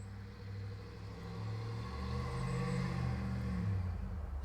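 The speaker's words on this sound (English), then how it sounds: "Sorry if you heard that truck go by." A large vehicle rumbles past at a distance, a low steady engine drone that swells gradually and holds, with no voices.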